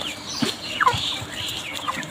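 Tiger-breed chickens clucking in a village poultry shed, a few short, fairly close clucks and calls over a soft farmyard background, with no talk.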